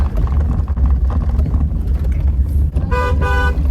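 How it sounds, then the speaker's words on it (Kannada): A car horn honks twice in quick succession near the end, loud and close, over a steady rumble of road and engine noise. "ಹಾರ್ನ್ ಹೊಡಿದಾರೆ"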